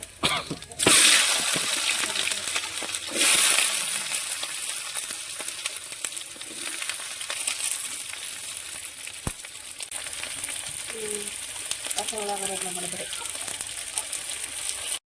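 Sliced onion fries in sesame oil, a steady broad sizzle with stirring scrapes and clatters early on, a few louder bursts, and faint voices or tonal sounds briefly near the end.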